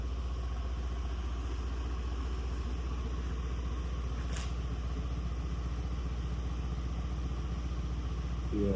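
A Mercedes C63 AMG engine idles with a deep, steady rumble heard from behind the car, loud and continuous with no talk.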